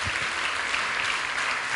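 A church congregation at a couples' congress applauds together: dense, steady clapping that fills the hall at an even level throughout.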